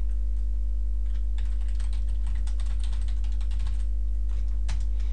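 Typing a French translation on a computer keyboard, a steady stream of close, quick key clicks over a constant low electrical hum, with no voices.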